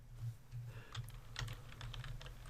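Typing on a computer keyboard while entering data in an Excel spreadsheet, a quick run of light, close key clicks in a steady rhythm over a low hum, no voices.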